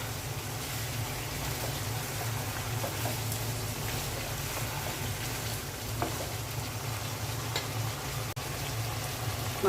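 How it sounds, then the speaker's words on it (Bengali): Meat with spices frying and being stirred in a pan for a home-cooked curry, a steady close sizzle with a low hum underneath and occasional faint scrapes, no voices. "মাংসটা ভালো করে কষিয়ে নিতে হবে।"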